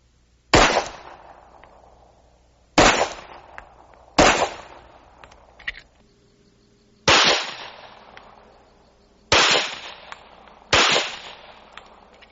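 Six loud handgun shots are fired outdoors with 230 grain Hornady XTP hand loads over 5.3 grains of Vihtavuori 320, spaced irregularly with sharp cracks and short echoing decays between them.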